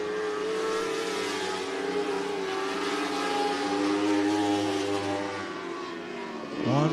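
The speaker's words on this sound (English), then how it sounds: "Anthony Pope coming down to be 3 laps remaining this time" Race cars roar around the dirt oval at Cottage Grove Speedway in Oregon, a steady loud engine drone with shifting pitch as cars pass close, ending in a sharp rising rev.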